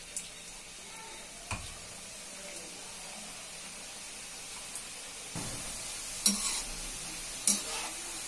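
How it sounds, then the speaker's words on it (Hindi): Namak pare cut from whole wheat flour dough frying in hot oil over low heat, a soft continuous sizzle and bubbling with a few clinks of a utensil stirring, quiet and close. "मैं धीमी आंच में बढ़िया से तलूंगी"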